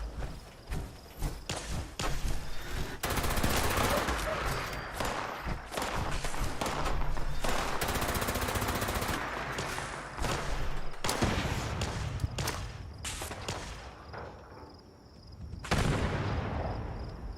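Rapid bursts of gunfire fill a Fallout 76 fight against a turret, dense and loud volleys running almost continuously with short gaps and a final burst near the end, with no talk.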